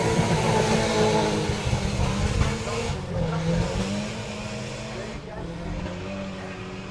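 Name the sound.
MR2 rally car driving a forest rally sprint stage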